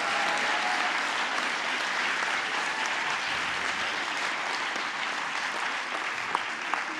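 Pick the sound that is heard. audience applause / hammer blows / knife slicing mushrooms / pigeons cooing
audience applause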